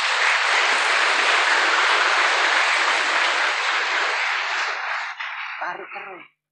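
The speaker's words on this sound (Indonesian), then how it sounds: "Tepuk tangan untuk Pak Nur Asnawi" Sustained audience applause at a religious gathering in Indonesia, dense and steady for about five seconds before thinning out, with a voice briefly starting to speak as the clapping fades.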